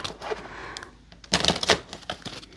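Tarot cards riffle and snap in quick crackling bursts, with a louder flurry of shuffling partway through, close to the listener.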